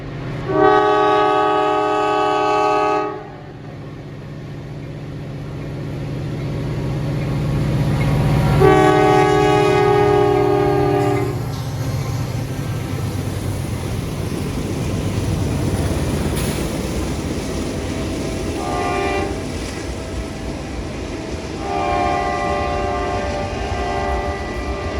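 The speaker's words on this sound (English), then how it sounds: "A mixed freight passes by Ward Hill in Haverhill, Massachusetts during a steady snowstorm." Mixed freight train passing in a steady snowstorm at Haverhill, Massachusetts. Loud horn blasts sound repeatedly, first near and then fading, over a long rolling rumble of rail cars.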